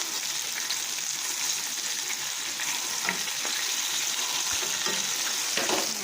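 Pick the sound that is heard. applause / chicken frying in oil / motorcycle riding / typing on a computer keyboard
chicken frying in oil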